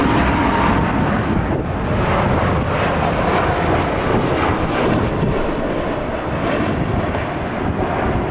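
United flight 7305, arriving from JFK, roars past at LAX as a steady, broad jet rumble with wind buffeting the microphone, continuous and loud throughout with no voices.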